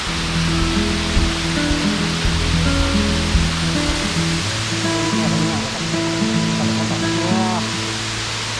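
A small waterfall at Arikkal near Ernakulam rushes in a steady broadband roar, with tonal music or humming layered over the water noise throughout.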